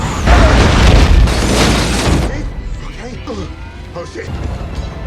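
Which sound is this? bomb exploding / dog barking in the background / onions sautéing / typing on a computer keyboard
bomb exploding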